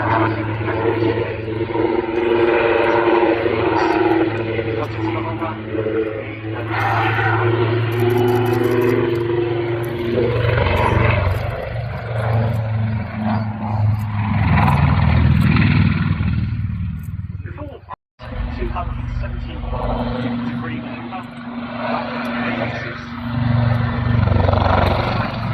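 A Wildcat helicopter flying a display at an airshow, a loud, sustained rotor and turbine roar that swells and fades as it passes, with a commentator talking over the noise throughout.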